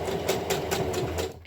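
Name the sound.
sewing machine stitching a cloth face mask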